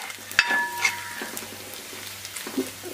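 Sliced onions with salt sautéing in a pan for a soya roast, a soft continuous sizzle with occasional clinks and scrapes of a spoon against the pan.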